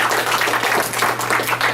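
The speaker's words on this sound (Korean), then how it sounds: "다시 한번 우리 하나님께 영광의 박수 올려드리고요." A church congregation claps together at a graduation service, a dense, steady patter of many hands filling the room for a couple of seconds.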